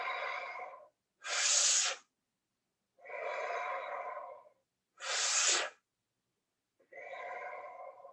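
Slow, deliberate breaths in and out during a seated chair yoga session, alternating audible inhales and sharper nasal exhales in an even rhythm, close and alone with no talk.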